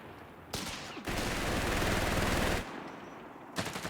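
Machine gun fire in Company of Heroes 3, a Wehrmacht MG crew in a 2v2 match: loud, rapid sustained bursts of gunfire, one long burst with shorter ones before and after, close and dominating.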